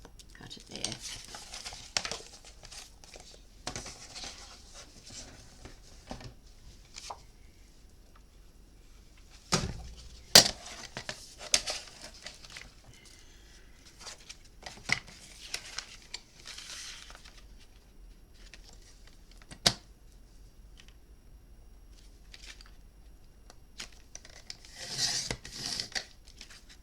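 Scissors cutting paper for a mini album make scattered snips and rustles, with crinkling paper handled between cuts, fairly close and quiet, with a person talking at times.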